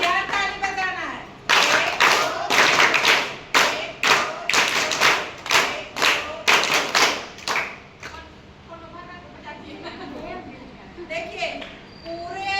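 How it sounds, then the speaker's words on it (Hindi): A crowd of people at a school event in Lohardaga, Jharkhand claps in a loud burst of sustained applause lasting several seconds, with talk before and after it. "अब यार ताली बजाना है।"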